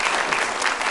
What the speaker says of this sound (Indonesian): Boleh tepuk tangan sekali lagi untuk Marwarar Sirait.